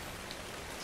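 Steady rain falls in ARK: Survival Evolved, a continuous soft hiss of drops spread evenly across the whole short stretch with no voices.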